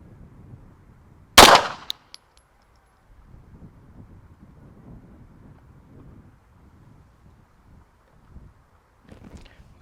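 A single sharp, loud report from a Springfield Prodigy 9 mm pistol fitted with a Trijicon SRO dot sight rings out early at an outdoor range, then fades into quiet wind and faint low rumble.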